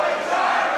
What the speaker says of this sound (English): Listen to the crowd there behind Starboy Charlie